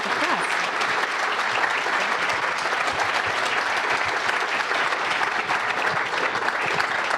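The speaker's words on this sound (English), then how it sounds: "big hand of applause for your moderators all day" A conference audience claps steadily for its moderators, a dense, even wash of applause that stays loud from start to finish.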